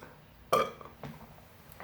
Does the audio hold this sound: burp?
yes